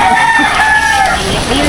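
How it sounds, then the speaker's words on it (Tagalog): A rooster crows loudly and close, one drawn-out call heard alone in a rural barangay in Laguna. "Tilaok na yata yan"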